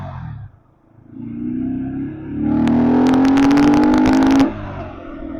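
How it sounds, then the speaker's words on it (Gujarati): A motorcycle engine ridden at night, a steady hum that rises into a louder revving whine as it accelerates, close and continuous, then easing off near the end. "આરામથી બાઇક ચલાવવું પડશે"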